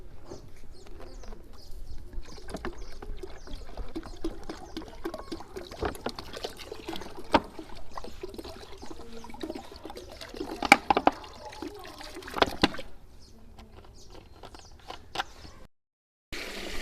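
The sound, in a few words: about 20 litres of water being poured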